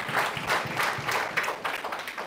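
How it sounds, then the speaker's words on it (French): An audience applauds three women with steady, moderately loud clapping from many hands that carries on for a couple of seconds. "On applaudit pour ces 3 dames."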